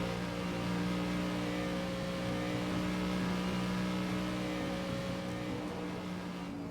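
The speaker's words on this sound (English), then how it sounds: "feel like I'm driving a Group C car right now." A Group C race car engine in the Assetto Corsa video game gives off a steady, droning hum with strong tonal layers, held at a fairly constant pitch and moderate level, with no voices.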